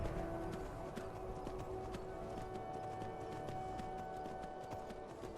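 Horse hooves clip-clop in the Skyrim video game, a quick, regular trotting rhythm that carries on throughout over a faint ambient background, with no speech.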